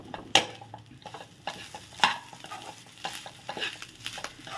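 Mashed potato is stirred into chopped onion in a hot pan for cutlets, with a spoon scraping and clacking against the pan over a soft sizzle in uneven, close strokes.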